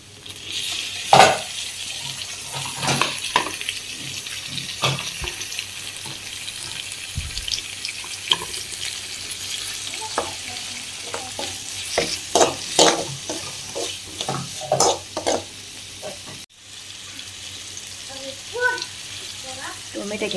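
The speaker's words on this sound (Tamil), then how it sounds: "இப்போ வந்து நான் வந்து டொமேட்டோ சேர்த்துக்கிறேன்" Tomatoes go into a hot frying pan over browned onions for a liver fry and sizzle with a continuous hiss, broken by sharp clatters and scrapes of stirring, close up.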